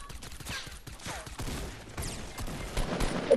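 Rapid bursts of gunfire in Fortnite crackle faintly in quick uneven volleys, with short sharp shots scattered through the stretch and a voice briefly in the background.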